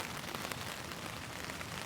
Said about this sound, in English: We have some gentle rain coming and the occasional big gust